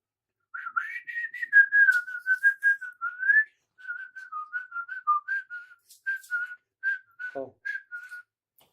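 Someone whistles a meandering tune alone, in short melodic phrases with small pauses, clear and close.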